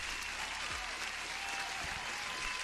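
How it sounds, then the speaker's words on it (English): Applause sound effect played during a live futures day-trading stream, a steady wash of crowd clapping held at an even level for the whole stretch. "You deserve an applause."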